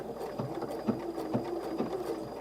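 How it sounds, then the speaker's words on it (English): A home sewing machine stitching as it is tested, giving a steady, fairly quiet mechanical patter with soft rhythmic pulses repeating about every half second and no voices. "let's get back to the sewing machine. Got to test this."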